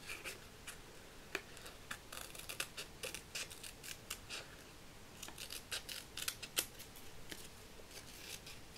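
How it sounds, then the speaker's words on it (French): Scissors cut out a paper gift shape for a Christmas card, a close, steady run of crisp snips spaced irregularly, some sharper and louder, with no talking. "Je viens de couper tout autour du cadeau."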